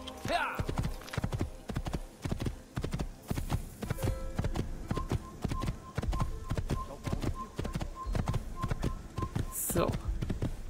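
Steady, rapid clip-clop of horse hooves from riding in the video game Assassin's Creed, a continuous galloping rhythm with a brief whinny and game sounds mixed in.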